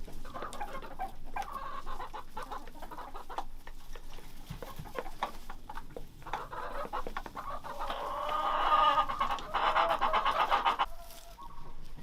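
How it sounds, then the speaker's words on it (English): Backyard chickens at an off-grid cabin clucking steadily and fairly close, with busier overlapping clucks and bird calls building near the end; no talking. "So these chickens are living the good life out here."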